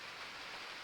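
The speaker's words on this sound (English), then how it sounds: "I can hear the rain out there" Rain falls outside a shed converted into a house, a brief, even, faint hiss of steady rainfall with no voices.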